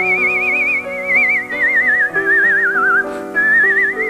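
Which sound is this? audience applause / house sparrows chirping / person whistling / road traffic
person whistling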